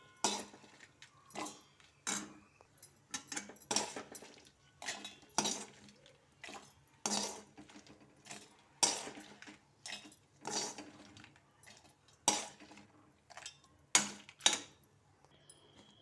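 Ingredients for coconut chutney being dropped and scraped into a mixer jar, with a string of sharp clinks and knocks of a spoon against steel, close by and irregularly spaced over about sixteen seconds.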